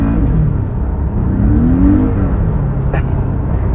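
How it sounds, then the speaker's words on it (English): A Porsche sports car engine burbles and rumbles loudly from inside the car, a deep steady drone with a slight rise in pitch midway. "The burbling engine as well."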